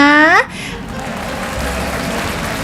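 An applause sound effect follows a short rising tone, giving a steady, even wash of clapping that carries on at a constant level to the end.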